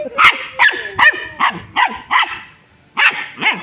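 A dog barks in a series of sharp, loud barks close by, about eight in a row with a short pause before the last two, no talking.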